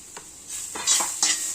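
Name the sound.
sautéing onions with spices in a pan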